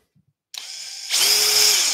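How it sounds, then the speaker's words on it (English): A small power drill whirs briefly, then its pitch rises and steadies as the small bit bites into wood, close and loud. "this drill bit's so small, it's pretty good"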